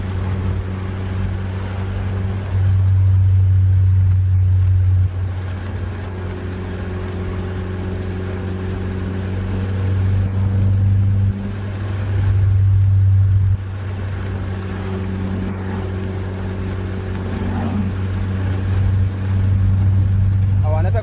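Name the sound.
car engine cruising through streets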